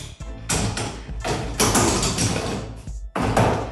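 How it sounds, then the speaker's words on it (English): IKEA drawer pushed into place, heard as a few loud sliding scrapes and thuds in separate bursts with short pauses between them, close and clear. "The final drawer goes in."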